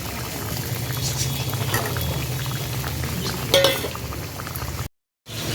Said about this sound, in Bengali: ঝোলটা হয়ে গেছে, এবার মাছগুলো দিয়ে দেবো।